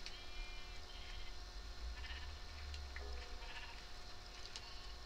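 Minecraft sheep bleat a few times in a block-built game world, short wavering cries over a steady low background with no talking.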